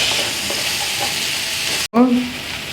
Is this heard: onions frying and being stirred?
yes